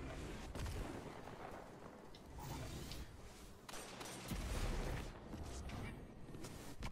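A sword-launched grenade in Destiny 2 Crucible play goes off among steady battle noise, with booming low blasts and crackling bursts around the middle and a dense rumbling din throughout.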